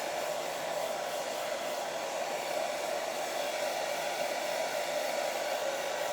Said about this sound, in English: I'll just grab the hairdryer.